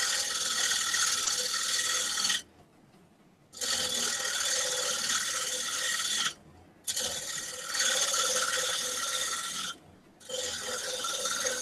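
A wood lathe spins a workpiece, giving a steady mechanical whirring and scraping as the tool cuts, broken by three short pauses before resuming at full loudness.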